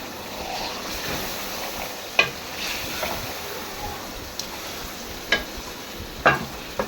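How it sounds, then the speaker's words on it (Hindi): Masala-marinated chicken added to tomato masala and frying for Hyderabadi dum biryani, a continuous soft sizzle broken by several sharp metallic clinks and scrapes of a spoon stirring the pot. "अब डालते हैं अपना चिकन जो हमने मसाला लगा के रखा हुआ था, इसको डाल देंगे और अच्छी तरह से पकाएंगे"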